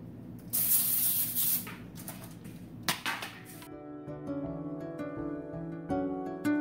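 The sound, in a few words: cooking spray sprayed onto foil-lined baking sheets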